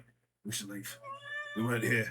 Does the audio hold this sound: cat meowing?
yes